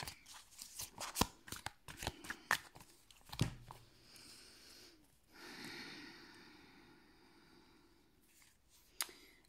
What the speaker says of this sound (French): on va aller faire une coupe avec ce tarot